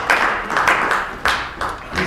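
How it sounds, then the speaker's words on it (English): Applause from an audience at a live comedy improv show, a short burst of clapping heard in quick waves, fairly close and moderately loud. "Big round of applause for Jason and Sloan, please."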